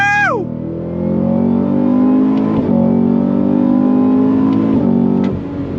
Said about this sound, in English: Second gear. On throttle, here we go. Fast shifts.